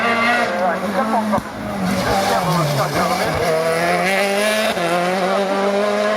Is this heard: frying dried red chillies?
no